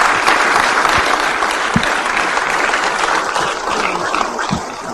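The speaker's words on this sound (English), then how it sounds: "please give our panelists a hearty round of applause" Sustained, loud audience applause for the panelists at a fintech conference afternoon session, a dense, steady wash of clapping lasting the whole stretch and tapering slightly at the end.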